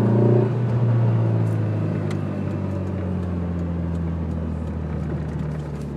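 An old, high-mileage car engine, nearly 400,000 km, growls loud and close, revving up at the start and then settling into a steady, strong hum as the car accelerates, with no talk.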